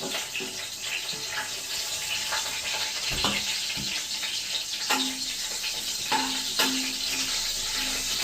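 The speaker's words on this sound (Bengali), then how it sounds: "আমি প্রথমে ফোড়নটা দিয়ে দিচ্ছি তেজপাতা, শুকনো লঙ্কা আর জিরে" A bay leaf, dried red chili and cumin seeds sizzle in hot oil as a tempering for a fish-head lentil dish, making a moderate, steady crackling hiss with a few sharp pops and clinks.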